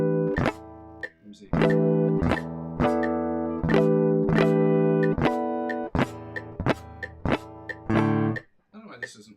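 Electric guitar harmonics chimed across the fretboard at 100 beats per minute, a run of bright, ringing bell-like notes struck one after another, each decaying slowly, with a few quick spoken words near the start.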